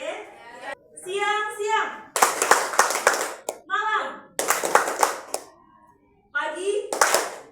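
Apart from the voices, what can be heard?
children clapping hands in a counting game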